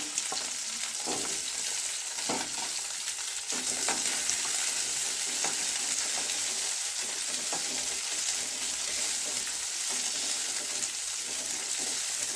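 Ginger, garlic and shallots sizzle steadily in a pan while being sautéed for a Chettinad kara chutney, a continuous close frying hiss with occasional stirring and no talking.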